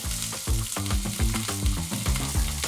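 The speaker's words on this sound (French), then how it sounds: "Là, c'est le bruit magique. Là, les courgettes sont bien grillées comme on veut." Courgettes grilling in a hot pan, a steady bright sizzle with small crackles and soft rhythmic stirring or scraping pulses. Close and fairly quiet, with no voices.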